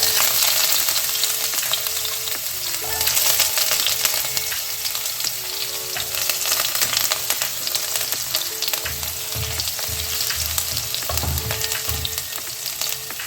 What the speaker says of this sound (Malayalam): കടുക് പൊട്ടി എന്നാൽ നമുക്ക് കുറച്ച് കൊച്ചുള്ളി അരിഞ്ഞ് കടുക് താളിക്കാനായിട്ട് ഇട്ട് കൊടുക്കാം